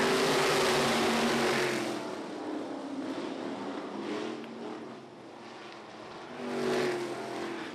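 Race cars roar off together at the green flag of a speedway race, a loud dense engine blare at first that eases back to a sustained drone, then swells again as the pack passes.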